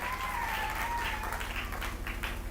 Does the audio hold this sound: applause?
yes